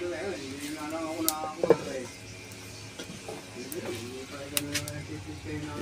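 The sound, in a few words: papaitang baka beef stew boiling in a pot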